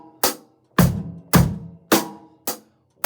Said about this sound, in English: it'll be kick on 1, 2, and snare on 3